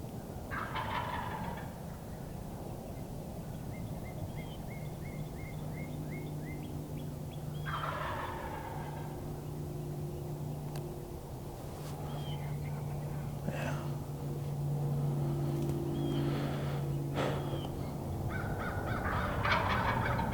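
Several bursts of rapid, rattling gobbling from a young wild turkey, a jake, about 30 yards away on public land in Tennessee, over a low steady outdoor hum.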